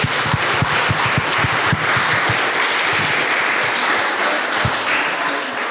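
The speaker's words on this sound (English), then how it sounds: "a round of applause for these guys" Loud, dense applause from a convention audience at a Terrifier 1 & 2 horror panel at NJHC Fall 2022, sustained clapping and crowd noise filling the whole stretch with a few sharper claps standing out.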